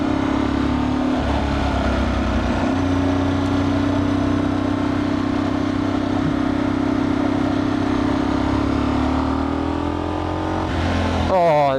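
A rebuilt Ducati 999S motorcycle engine runs steadily close to the microphone, a constant throbbing drone with a slight rise in revs near the end.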